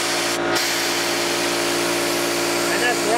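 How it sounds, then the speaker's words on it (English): Coleman air compressor running under load, heard right at the compressor head as a loud steady mechanical drone with a constant hum, continuous throughout. "that's right off the compressor head. You can actually hear it under load"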